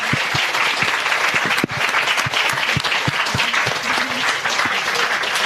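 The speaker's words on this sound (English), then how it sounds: "can we give them a big clap" Sustained audience applause at a music summit session, dense and steady clapping from a crowd throughout, fairly loud and continuous without talk.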